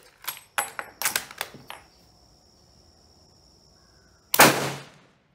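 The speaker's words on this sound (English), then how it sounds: "That was a Hangfire. That was a click boom." A hangfire of Bulgarian 8mm surplus ammunition: a series of sharp mechanical clicks, a quiet pause of over two seconds, then one loud close boom that rings out briefly.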